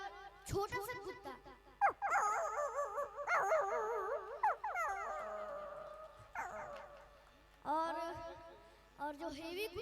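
A man imitates a small dog whimpering with his voice, producing a long series of wavering, whiny yelps and whines that rise and fall, fairly loud and close, with brief pauses between bursts.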